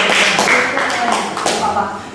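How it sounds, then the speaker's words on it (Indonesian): A short burst of classroom applause for a student group, several hands clapping unevenly and close by, with some taps and shuffling mixed in. "Tepuk tangan untuk kelompok 3."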